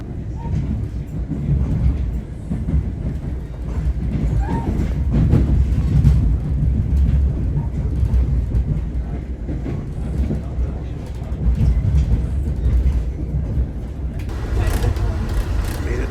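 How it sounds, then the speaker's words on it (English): A steady rumbling ride on the Newark Airport AirTrain, with a constant low roar, rattling and faint clickety-clack throughout, fairly loud and close. "Newark Airport, next stop, air train."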